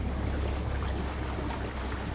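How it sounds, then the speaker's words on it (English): A boat motor on a commercial fishing boat drones steadily while raising the weight on a fishing net, a loud, continuous low rumble mixed with wind and water noise, with no talking. "We'll use our motor to raise our weight."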